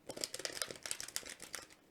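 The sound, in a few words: shuffling a deck of tarot cards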